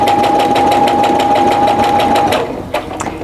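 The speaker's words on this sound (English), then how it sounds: "Now I'm just going to stitch down, again keeping the edge of the presser foot even with that line." A sewing machine stitches quilt pieces for flying geese blocks, a rapid, even mechanical rattle with a steady whine running close and loud for about two seconds before stopping, followed by a few soft clicks.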